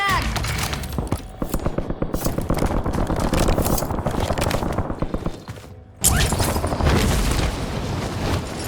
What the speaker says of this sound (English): Loading new mag!